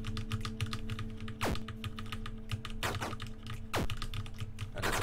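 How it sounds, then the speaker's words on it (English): Loud computer keyboard typing with keys mashed hard and fast, a dense run of clacking keystrokes and a few heavier thumps over low background hum, no talking. "I don't know if you guys can probably hear my keyboard. It's pretty damn loud. I'm like mashing those keys"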